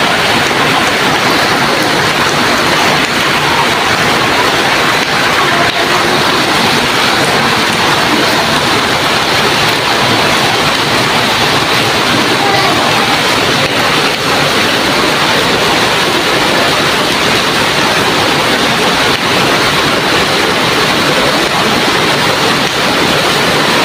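Floodwater rushes past a riverside during a typhoon, a loud, unbroken roaring wash of water like heavy surf, constant and close throughout with no voices.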